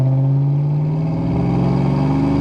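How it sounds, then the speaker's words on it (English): A 1990 Ford Mustang LX hatchback's V8 with Flowmaster exhaust burbles with a deep, throaty exhaust rumble, close and loud, pitch rising slightly as it pulls steadily. "Listen to those Flowmasters a little bit."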